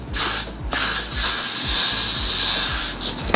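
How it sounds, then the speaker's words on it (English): A steady hissing spray of Got To Be hair spray applied over gel, continuous and close, with faint low thumps underneath. "On top of that gel, just for extra security, I'm gonna put this Got To Be free spray."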